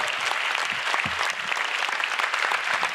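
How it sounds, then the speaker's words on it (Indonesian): A comedy roast audience claps in a steady, dense wash of applause for the full three seconds, with no talking heard over it. "Tepuk tangan."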